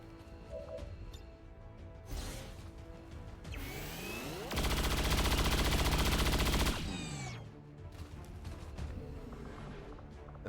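A saturation fire machine gun burst in XCOM 2, a loud sustained rattle of rapid shots lasting about two seconds, framed by lighter mechanical clatter and game effects before and after.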